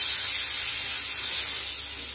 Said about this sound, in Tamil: இப்ப நம்ம எடுத்து வச்ச தக்காளியை மிக்சியில் அடிச்சு பியூரியா ஆட் பண்ணிக்கலாம்.